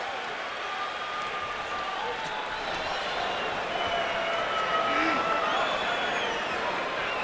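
A big arena crowd hums at the Klitschko vs Jennings heavyweight boxing match, a constant murmur of voices and scattered shouts with occasional claps, steady and full for the whole stretch.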